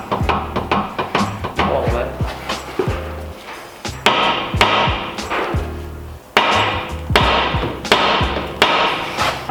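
Hammer blows bashing a seized track rod end on a Honda Civic CTDI, sharp metallic strikes in quick irregular bursts, loud and close, with short pauses between volleys.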